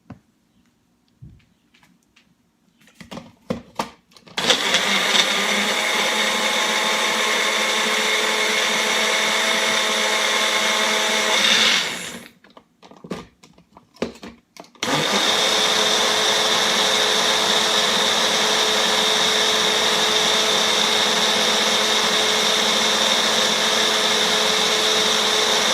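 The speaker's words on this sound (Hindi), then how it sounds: "इसको हम लोग ग्राइंड करेंगे अभी" A kitchen blender runs loudly, grinding a mango, banana and yogurt smoothie in two long bursts, with a brief pause and a few handling clicks before and between the runs.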